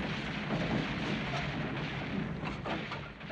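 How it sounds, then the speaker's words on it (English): A big explosion from a bombing in a 1959 film, a heavy, rumbling blast with sustained low roar, faint and somewhat distant, with no talk. "That noise, that big explosion, they hit one of the English planes and fell right in this block."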